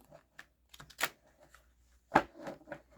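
Tarot cards are shuffled side to side by hand, giving soft, irregular clicks and two sharper slaps up close in a quiet room.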